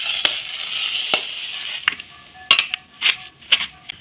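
A spoon works through a potato and peanut filling in a pan, giving a series of sharp scrapes and clinks over a light sizzle, close and irregular.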